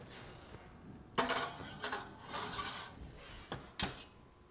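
A cheesecake pan set into a second water-bath pan and slid into an oven: a few sharp metallic clanks and scrapes of pans, spaced irregularly against a quiet kitchen background.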